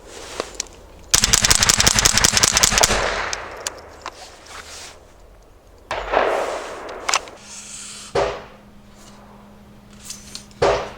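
A .22 rental training gun fires a fast burst of sharp, closely spaced shots, then several single reports follow after pauses, close and loud with no talk over them.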